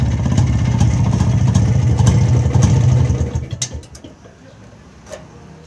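A modified 1977 Rajdoot 175cc motorcycle engine runs with a steady, close, low rumble, then shuts off about halfway through, leaving near-silence with a faint click.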